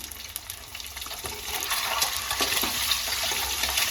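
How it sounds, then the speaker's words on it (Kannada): Eggs fry in a pan with a little turmeric at the start of an egg curry, giving a steady close sizzle and spatter that grows louder after the first second and holds without pause. "ಅದಕ್ಕೋಸ್ಕರ ನಾವು ಈ ರೀತಿಯಾಗಿ ಮೊದಲಿಗೆ ಫ್ರೈ ಮಾಡ್ಕೊಳ್ತಾ ಇದ್ದೀವಿ"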